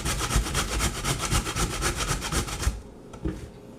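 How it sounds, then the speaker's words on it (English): A potato is grated by hand for Jamaican potato pudding, a close, loud, fast rhythmic rasping of strokes that stops near the end, followed by a couple of quieter scrapes. "So I'm going to grate it now."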